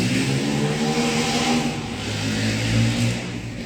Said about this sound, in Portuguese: Eu não entendo essas pessoas que usam moto com esse barulho todo.